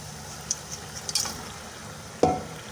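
Quail meat stirred into hot masala in a pan, with a low steady sizzle of frying under a few light clinks and scrapes of a spoon, one louder stir near the end.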